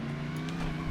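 Brief, steady engine drone from a Toyota AE86 fitted with a Mercedes McLaren SLR engine in a driving video game, heard loud and close with no talk.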